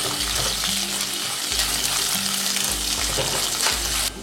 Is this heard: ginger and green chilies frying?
yes